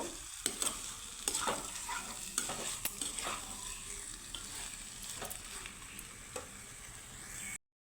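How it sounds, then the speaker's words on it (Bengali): Taro root and potato frying with spices in a pan give a continuous close sizzle, punctuated by repeated scraping stirs of a spoon, before cutting off abruptly. "তো সুন্দর করে কষিয়ে নিব"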